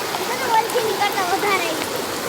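Heavy rain pours at Pavagadh in a dense, steady roar of falling water close by, with faint voices rising over it.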